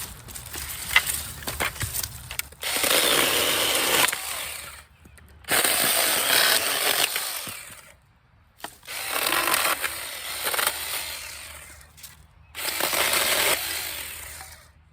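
A GPED mini chainsaw cuts through very dry wood outdoors in three loud, close bursts of several seconds each, separated by short pauses as the saw revs down.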